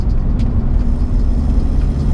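A 2005 Alfa Romeo 147 JTD diesel hatchback with a straight-piped exhaust and no resonator gives a loud, steady low engine drone and rumble, close and continuous, with no talking over it.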